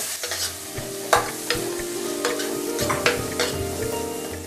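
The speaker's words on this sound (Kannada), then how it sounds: "ಈ ಈರುಳ್ಳಿ ಅನ್ನೋದೇನಿದೆ ಸ್ವಲ್ಪ ಸಾಟ್ ಆಗಬೇಕು, ಅಲ್ಲಿವರೆಗೂ ನಾವು ಇದನ್ನು ಕ್ಲೀನಾಗಿ ಟ್ರಾನ್ಸ್ಲೂಸೆಂಟ್ ಆಗೋವರೆಗೂ ಹುರಿಯುವ" Onions sizzle steadily in a hot pan with turmeric while a spoon stirs and scrapes, leaving sharp clinks and scrapes over continuous close frying, with no talking.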